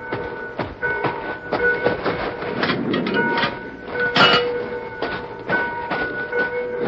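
Freight fruit train with sealed cars rolling on rails, heard as a steady mechanical rumble with rhythmic clicks and clanks close by, alone with no voices.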